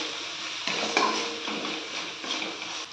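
Spices with chilli powder and turmeric being stir-fried in a pan for Bengali okra posto, a steady close sizzle and hiss with a few soft scrapes of the spatula against the pan, alone without talk.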